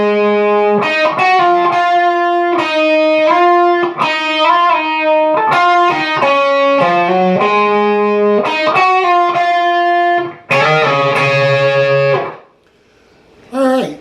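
Distorted electric guitar plays a melodic solo from a song, with loud, sustained notes and bends in a steady phrase that ends on a ringing held chord. The guitar plays alone, with no talking.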